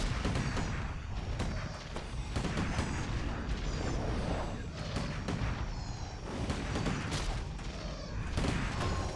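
Mortar fire in the pirate-themed 5v5 boat MOBA Sirocco, heard as a continuous barrage of booming blasts and crackling impacts. The volley keeps a steady loud level throughout with no pause.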